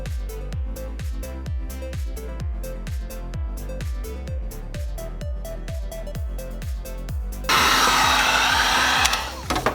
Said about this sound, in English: Now I'm going to use a heat gun, but you can use a stove for this